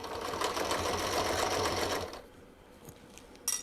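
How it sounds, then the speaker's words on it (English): A sewing machine stitches a fabric project bag in a steady, close whirring run for about two seconds, then stops, leaving quiet room sound with a brief knock near the end. "when the sewing machine starts moving"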